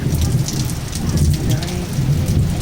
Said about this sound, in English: It's starting to really come down. Yeah. And it did the job. Oh, more lightning.